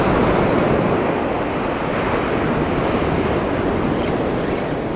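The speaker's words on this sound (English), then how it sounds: "it's getting a little windy out here" Strong wind and breaking surf on a beach during surf fishing, a loud continuous roar with wind buffeting the microphone throughout and no voices.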